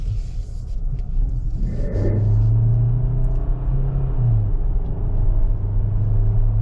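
A 2024 Kia Sorento SXP Hybrid accelerates with a steady, close engine rumble and a rising drone that climbs in pitch, dips briefly, then holds, heard alone from inside the vehicle.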